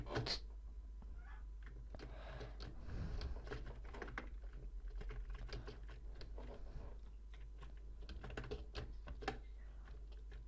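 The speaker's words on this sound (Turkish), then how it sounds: "Şu klavye sesleri çıldırıyor sanırım." Rapid, irregular computer keyboard typing picked up close to the mic, clicks scattered densely across the whole stretch over a constant low electrical hum, with no one talking.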